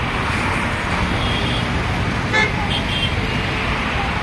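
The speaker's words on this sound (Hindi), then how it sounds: "वो बहुत ज़्यादा गाड़ी आ रही है" Heavy road traffic with many vehicles passing and car horns. A dense, continuous roar rises at one point into a short horn toot, and voices are faintly mixed in.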